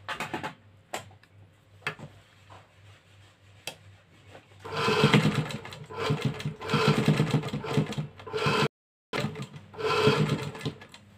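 A sewing machine stitches a designer blouse. A few quiet ticks come first, then several loud, close bursts of rapid stitching with a brief pause between them.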